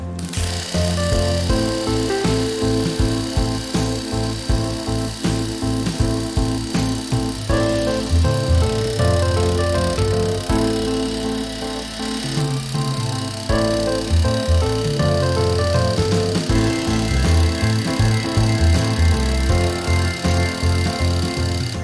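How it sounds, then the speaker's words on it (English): A loud, rapid mechanical hammering runs continuously, a planishing hammer pounding sheet metal on a linear stretch in steady bursts with brief pauses, close and dominant throughout. "the planishing hammer on the linear stretch, it really moves that metal"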